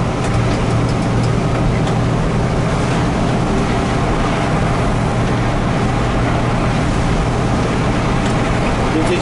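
A ZKM Gdynia city bus on line 165 drives along, heard from inside as a loud, steady engine and road rumble with continuous broadband noise throughout.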